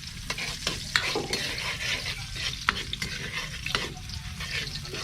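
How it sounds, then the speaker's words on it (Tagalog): Onion and tomato sizzle in a frying pan while being stirred, with a steady crackling hiss and repeated sharp utensil scrapes close by, no speech. "ilalagay na po natin yung kamatis katropa"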